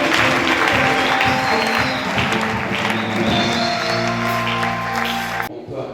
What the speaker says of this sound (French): Nous applaudissons très fort pour le Seigneur.